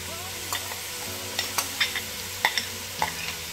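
Onions going into a pot for a Cape Malay sugar bean stew, with a steady low sizzle broken by several sharp clinks and stirring scrapes, close and moderately loud, no talking.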